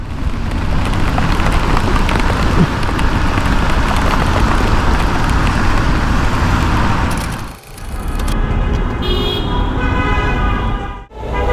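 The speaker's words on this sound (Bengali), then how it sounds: "যার কারণে অস্থির বৃষ্টি নামছে" Heavy rain pours down around a ride-share car on the road, a dense, loud, steady roar with passing traffic mixed in and two brief dips near the end.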